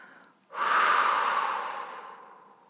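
A deep inhalation through the nose during a guided sophrology relaxation exercise, starting abruptly as a loud, airy rush that swells and then slowly fades over about two seconds, with nothing else heard.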